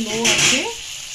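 Water poured onto fish frying in a hot oiled pan, a loud burst of hissing sizzle that swells then settles, with a voice talking over the start.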